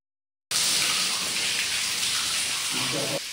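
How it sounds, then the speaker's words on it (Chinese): Heavy rainwater suddenly starts pouring and splashing down a building's leaking stairwell in a loud, continuous rush, like a wall of water cascading down the stairs during a downpour. "楼梯间持续有雨水灌落来，亲像是水墙。"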